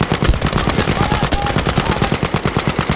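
Sustained rapid machine gun fire in the video game Battlefield 5, a loud, fast, evenly spaced burst of shots continuing throughout, close and dominant with no other sounds rising above it.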